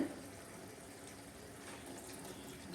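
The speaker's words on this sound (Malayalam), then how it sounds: "അവസാനമായിട്ട് ഞാൻ ഈ തേങ്ങാപ്പാൽ ഇതിലേക്ക് ഒഴിക്കാൻ പോവുകയാണ്" Coconut milk pours into a simmering prawn curry as a soft, steady liquid rush, faint and continuous, with no other sounds over it.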